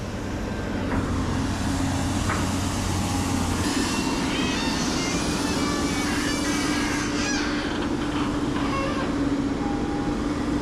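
A 30-ton dump truck is loaded by an excavator at a landfill expansion site: a loud, steady diesel drone with a low hum runs throughout, broken by scattered clanks and knocks of material and machinery, with no talk.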